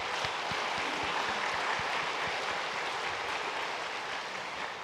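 A church congregation at Sunday worship applauding to welcome a newcomer, making a dense, steady wash of clapping from many hands that holds for the whole stretch without talk.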